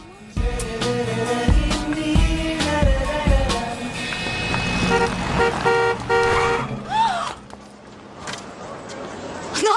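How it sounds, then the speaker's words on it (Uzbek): Car horns honk on a busy city street, several short blasts followed by longer sustained toots over traffic noise, loud and close, with people talking over them. "Yana signal berishingni qara."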